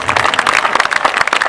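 Audience at a Hindi poetry recital applauding, a short dense burst of clapping from a crowd, loud and close.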